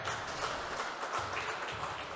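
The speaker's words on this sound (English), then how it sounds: "Some applause from the fans around." Steady crowd applause at the 2018 World Racquetball Championships men's singles, a continuous wash of clapping from spectators around a court, moderately loud and sustained throughout.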